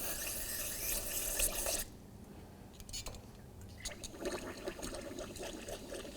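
Water sprayed from a hose onto the brake caliper boot of a 2007-2013 Acura MDX gives a loud, steady hiss and splatter. It cuts off sharply, then comes back in broken, dripping bursts.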